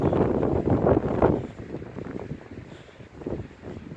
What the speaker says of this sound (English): Can't really hear too much except for wind.